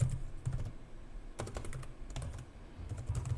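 Bursts of keystrokes on a computer keyboard, typed during a Symfony web-coding lesson, arriving in short irregular clusters of close, crisp clicks with brief pauses between them.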